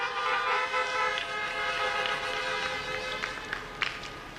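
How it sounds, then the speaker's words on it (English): Car horns honk at a 2020 high school graduation for Mount Sinai High School, their overlapping sustained tones blaring steadily throughout with a few brighter bursts near the end. "No problem with the honking when it's appropriate."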